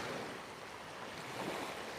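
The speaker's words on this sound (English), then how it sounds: "birds love the sound of the waves" Ocean waves wash steadily onto the shore at Can Picafort in Mallorca, a continuous broadband surf roar with slight swells and some wind noise, close and fairly loud with no voices.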